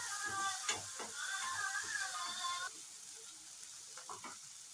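Tomato and turmeric being stirred in a frying pan for Kannada-style avalakki poha, a soft sizzle with scraping spoon strokes in a steady rhythm, close and moderately quiet, fading lower near the end.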